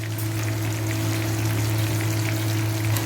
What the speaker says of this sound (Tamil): இங்கே பாருங்கள், நல்லா பெரிய தவால எண்ணெய் ஊற்றி நான் பொரிச்சிக்கிட்டு இருக்கேன்.